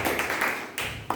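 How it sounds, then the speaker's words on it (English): A short round of clapping in a small room at a Toastmasters club meeting, a quick patter of several pairs of hands lasting about a second. "That's a round of applause for it."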